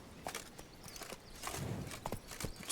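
Steady hoof clip-clops of a walking horse in The Witcher 3: Wild Hunt, evenly paced and fairly close, over a soft ambient background.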